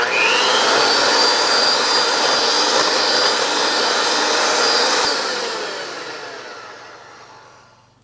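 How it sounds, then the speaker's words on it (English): An electric hand mixer whirring at high speed through pumpkin dog treat dough, a loud steady motor whine that fades away over the last few seconds. "And then we're gonna take our mixer."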